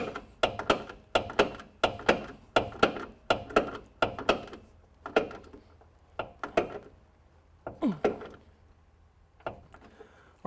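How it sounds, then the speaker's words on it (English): A 3/8 drive ratchet with a 1/2 inch shorty socket tightens a bolt on an F100 truck, giving a series of close, sharp clicking strokes in a steady rhythm that slows and thins toward the end. "I'm going to pull in my 3/8 drive 1/2 inch on a shorty because I can get more torque on it"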